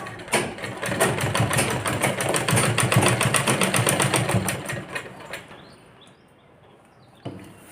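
A sewing machine stitching a skirt for a twelve-year-old girl runs in a fast, steady mechanical whir for about five seconds, then slows and stops, with a brief clunk near the end.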